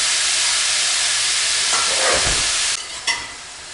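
Butter melting in a hot pot hisses steadily, loud and close, then the sizzle drops sharply near the end with a brief scrape.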